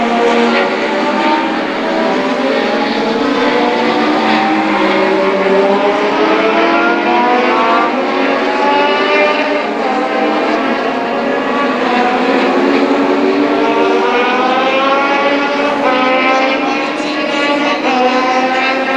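Legend race cars scream around New Hampshire Motor Speedway in a loud, continuous engine roar. Overlapping pitches rise and fall as the pack passes through the final corners.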